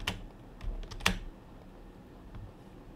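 Typing on a computer keyboard, a few quick, close key clicks clustered at the start and middle, then faint tapping over quiet room noise.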